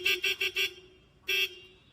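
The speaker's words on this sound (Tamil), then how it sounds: "ஹார்ன் அடிங்கண்ணா." Horn on a Hero motorcycle fitted with a custom unique horn, sounding four quick evenly spaced beeps followed by a pause and one longer blast, close and clear.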